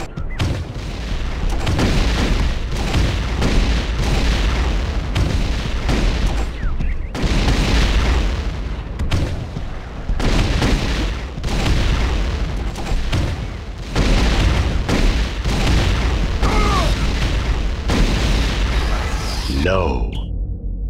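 Repeated booming grenade launcher explosions in the game T2 pound in rapid, rhythmic bursts throughout, loud and dense, with a voice talking intermittently over the blasts.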